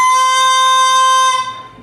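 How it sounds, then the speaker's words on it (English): An English horn reed blown by itself gives a crow, a bright, buzzy, steady sustained tone rich in high overtones, loud and close, held about a second and a half before cutting off. "the reed by itself makes what's called a crow."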